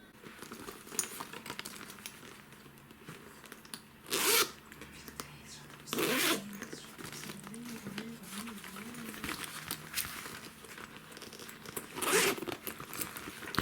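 Zippers on a women's faux-leather handbag are pulled open and shut in three short, loud bursts, with quieter rustling and handling of the bag between them.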